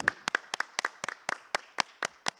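At an academic conference, an audience welcomes a presenter with light, sparse clapping: a dozen or so crisp, separate hand claps in an uneven rhythm, fairly faint and close by.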